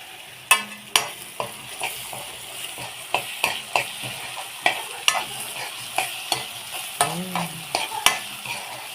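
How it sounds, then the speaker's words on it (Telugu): Ginger garlic paste fries with onions and cinnamon in a pan as a spoon stirs it, making steady scraping strokes about every half second over a continuous sizzle. "అల్లం వెల్లుల్లి పేస్ట్ వేస్తున్నాను"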